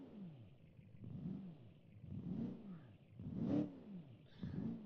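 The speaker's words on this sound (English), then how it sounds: "Let's hear it start up." A virtual car engine in the Automation game starts up and revs repeatedly in rising and falling sweeps, each rev swelling and then dropping back, heard alone and fairly quietly.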